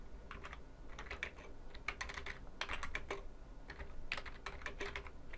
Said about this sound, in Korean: 타임 블로킹 기법에 대해 알려줘라고 하고 한번 엔터를 쳐보겠습니다